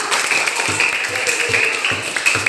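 Classroom applause: a steady wash of many hands clapping fills the room, with a few louder scattered claps and faint voices underneath.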